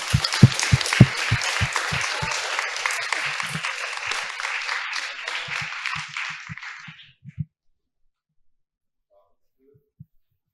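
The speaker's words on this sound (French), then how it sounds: "Vous pouvez les applaudir." An audience at a college climate education prize event applauds for college students, with loud, dense clapping that fades out after about seven seconds, followed by silence.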